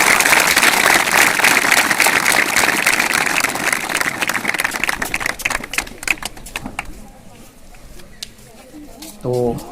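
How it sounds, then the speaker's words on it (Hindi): Audience applause at a school parent-teacher meeting, a dense burst of clapping that thins into scattered claps, with a voice speaking at the end. "बहुत सारी तालियां सर के लिए।"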